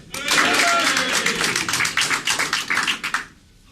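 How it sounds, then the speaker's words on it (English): An audience at a stage hypnosis show claps and cheers on cue, a full burst of applause with voices lifting over it, settling into scattered rhythmic claps before cutting off into quiet. "Okay, can we have a cheer with it this time?"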